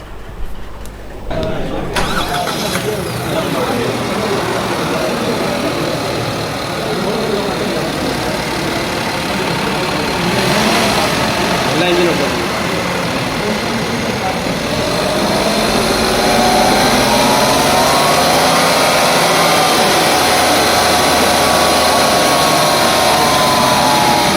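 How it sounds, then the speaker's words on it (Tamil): A Maruti Swift hatchback engine cranks and catches, then settles into a steady idle with repeated revs rising and falling, loud and close throughout. "காரோட என்ஜின் நோட்டை இப்போ நீங்கள் கேளுங்க. ஸ்டார்ட் பண்ணி ரைஸ் பண்ணியும் காட்டுவோம்"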